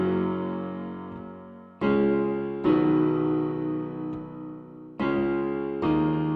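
A guitar plays a chord progression, with about five strummed chords that each ring out and fade before the next one lands, played clearly and alone.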